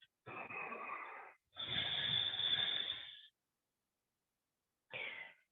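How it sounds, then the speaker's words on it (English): Deep, gentle breaths during a yoga flow: a long inhale, then a longer exhale, and after a pause a short breath begins. The breaths are soft, close and steady, with no talking. "Deep and gentle inhales and exhales."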